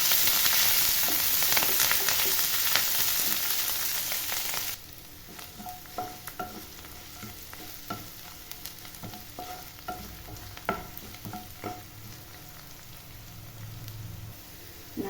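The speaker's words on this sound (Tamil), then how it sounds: "ஒரு ஆறு ஏழு சின்ன வெங்காயம் பொடியாக நேரத்தில் எடுத்து போட்டுக்கலாம் கருவேப்பிலை நல்லா இதெல்லாம் வதக்கிக்கலாம்" Chopped small onions and curry leaves sauté in a pan, first with a loud dense sizzle, then a quieter frying hiss broken by repeated spatula scrapes and taps.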